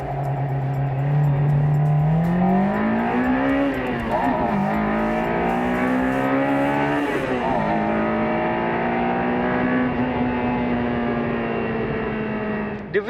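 Honda Integra DC5 with VTEC engine launching hard from a standstill, its revs climbing in a loud rising wail through several gear changes, each shift marked by a brief dip before the pitch rises again.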